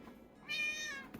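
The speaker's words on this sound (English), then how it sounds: "I can't believe even you're meowing at me this morning, Nala." A house cat gives one drawn-out meow close by at home, loud and clear with no other sound around it.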